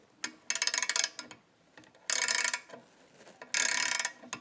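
Ratchet wrench tightening a bolt that secures a dryer bracket, three bursts of rapid metallic clicking separated by short pauses, close and fairly loud.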